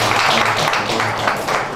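An audience at an International Women's Day event held by an education society in Patiala breaks into applause, a dense, fairly loud wash of many hands clapping at once that continues steadily.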